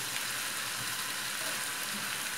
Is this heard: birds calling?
no